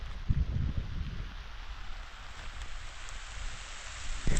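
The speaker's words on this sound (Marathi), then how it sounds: "उन्हात पाऊस चालू आहे" Steady rain hisses down continuously while the sun shines, a soft even patter with no voices, with a few low thumps near the start and end.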